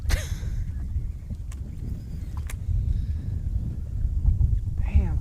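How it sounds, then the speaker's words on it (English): Wind gusting across a bass boat on a lake, a constant low rumble of buffeting against the microphone, with a voice speaking briefly at the start and end. "Damn, come on, wind, why are you doing this to me?"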